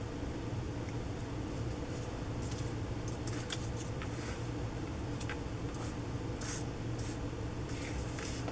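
Scissors snipping bright red paper to make scrapbook flowers, a steady run of soft cuts and rustles over a constant background hiss, close and fairly quiet with no speech.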